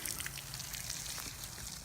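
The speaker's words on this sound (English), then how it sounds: "you're putting water in there" Water poured into a hole around a fence post, giving a faint, soft trickle and splash that runs briefly at low level.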